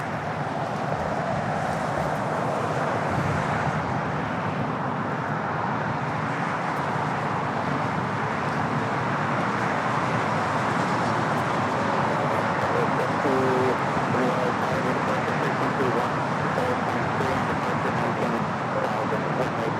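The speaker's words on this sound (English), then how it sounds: "All Nippon Airways Flight 5 taking off to Tokyo Narita on the 787-9 Dreamliner" All Nippon Airways Boeing 787-9 Dreamliner on its takeoff roll from runway 24L at LAX, bound for Tokyo Narita: a loud, steady, broadband jet roar that holds without a break for the whole stretch.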